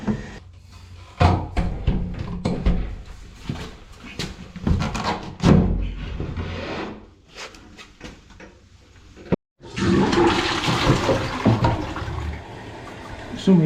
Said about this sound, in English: give all these a good flush test